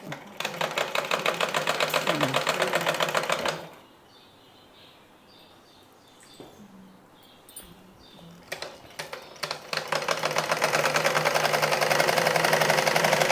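A sewing machine stitches chudidar pants in a fast, rapid mechanical chatter, running for a few seconds, pausing while a voice speaks quietly, then running again steadily to the end.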